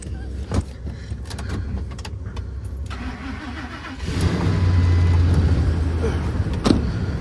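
A tractor engine turns over on a cold day, with clicks and clunks first, then a heavier cranking rumble that builds and holds near and loud before fading slightly. No speech.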